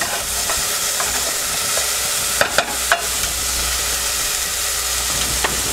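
Onions frying in a pan with salt and pepper: a steady, close hiss of sizzling, with a few clicks and light stirring scrapes partway through and no talking.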